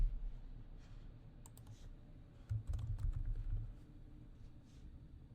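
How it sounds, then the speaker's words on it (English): Quiet keystrokes on a computer keyboard, a short burst of soft clicks and taps clustered in the middle, alone and close. "Start typing their name in the correct group."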